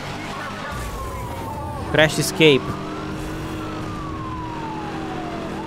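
A police car siren wails in the Need for Speed: Hot Pursuit Remastered racing game, sweeping up and down steadily over engine noise, with a brief game voice announcement in the middle.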